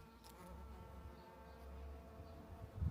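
Bees buzzing around an allotment garden, a faint, close, steady drone with small swells and no voices.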